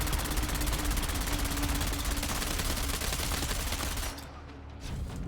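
Sustained rapid automatic gunfire in a video game, loud and dense for about four seconds before cutting off into quieter scattered noise.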